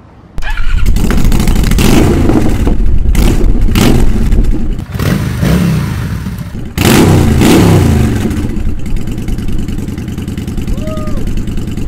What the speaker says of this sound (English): Now here's the new exhaust.